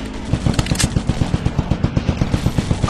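Steady automatic gunfire in a robot first-person shooter game on Android, a loud, close, evenly spaced rapid stream of shots without pause.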